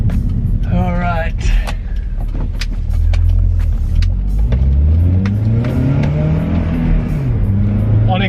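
A Honda Accord fitted with new MCA XR coilovers accelerates hard, its engine droning and rising in pitch over a steady loud road rumble, with a brief voice early on.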